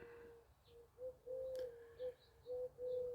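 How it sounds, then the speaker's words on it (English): Doves cooing outdoors, a few soft, low hooting calls in short phrases with brief pauses between, heard alone against a quiet background with faint chirps from other birds. "You can hear the doves,"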